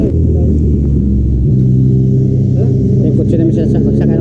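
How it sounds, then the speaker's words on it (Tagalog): Car engine rumbling steadily from inside the vehicle as a group heads to a campsite in Tanay, Rizal, a continuous low drone with people talking over it. "Magsakay na kami ng kotse guys."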